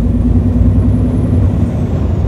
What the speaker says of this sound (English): Up through the gears.